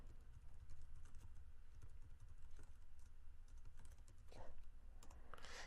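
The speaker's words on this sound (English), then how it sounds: "So let's again just type our URL in here" A web address is typed on a computer keyboard: quiet, close, rapid key taps in an uneven stream, faint against a low background hum, with a slightly louder click burst near the end.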